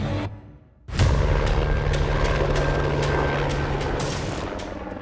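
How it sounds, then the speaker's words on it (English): A helicopter flies over the Mount St. Helens disaster area, its rotor chop loud and close, with a steady engine drone and rhythmic blade thumps after a brief quiet lull. "Journalist Jeff Renner and his cameraman, Mark Anderson, rush in aboard a helicopter."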